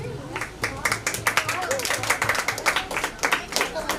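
At an Ambedkar Jayanti celebration, a crowd claps for the second-place winner of a drawing competition, a lively rhythmic round of hand claps under a speaking voice, fairly close and steady throughout.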